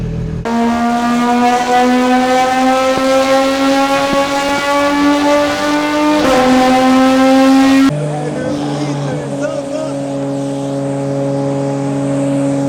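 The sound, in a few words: car engine with JCR exhaust revving past 8000 rpm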